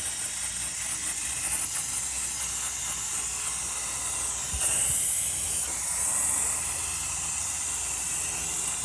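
Brake parts cleaner sprays from an aerosol can onto oily Nissan engine parts, a steady close hiss running continuously with a brief harder blast midway, without any talking.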